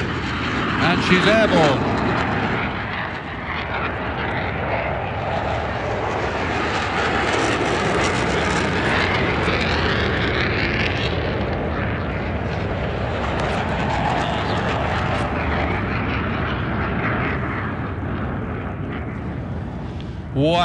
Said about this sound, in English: XB-1 is supersonic, faster than the speed of sound.